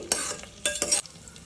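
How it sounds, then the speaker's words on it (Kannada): Garlic, cloves, pepper and cumin are stir-fried in a pan for mushroom sambar: two or three quick scraping stirs over a faint, close sizzle, brief and quiet. "ಸ್ವಲ್ಪ ಬಾಡಿಸ್ಕೊಳ್ಳಿ, ಫ್ರೈ ಮಾಡ್ಕೊಳ್ಳಿ"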